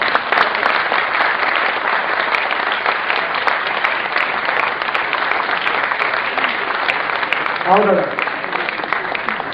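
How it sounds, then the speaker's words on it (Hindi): At a Hindi poetry gathering, an audience claps steadily and loudly as a poet comes to the stage, the applause continuing throughout while a voice calls out briefly near the end. "तो एक बार फिर आपको तालियां बजानी पड़ेंगी।"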